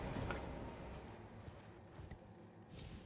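A horse gallops in the video game Elden Ring, giving soft, rapid, rhythmic hoofbeats that stay faint and low in a muffled game soundscape.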